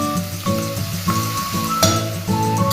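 Finely chopped garlic and coriander sizzle in a hot pan while a utensil stirs and scrapes in repeated strokes roughly every half second, close and fairly loud, with no talk.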